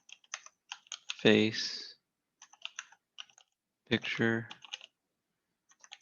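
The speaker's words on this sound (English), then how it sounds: "You'll see I'm using the camel case when typing out the control name." Close, crisp computer keyboard typing comes in short bursts of clicks, broken by brief spoken words and quiet pauses.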